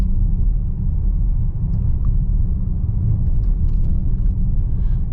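A 2023 VW Atlas Cross Sport V6 drives over a bumpy road, heard from inside as a loud, continuous low rumble of road and tire noise with occasional faint knocks.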